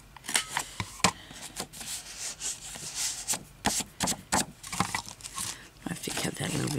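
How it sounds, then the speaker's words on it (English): Scissors snip corners off paper in a journal, a series of sharp little cuts and paper rustles at close range, with someone talking throughout. "I'll cut these bits off, even though they're going to be covered over in a minute"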